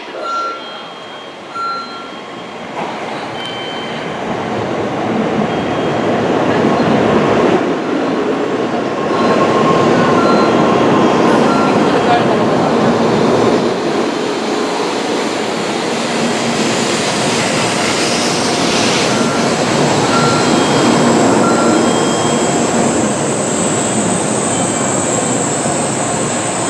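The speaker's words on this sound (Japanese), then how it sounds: "33分発のぞみ135号姫路行きの到着です。" A Tokaido Shinkansen Nozomi train pulls into a platform at Nagoya Station at night, its loud rushing roar swelling and holding steady as it arrives, with faint station announcement tones in the background.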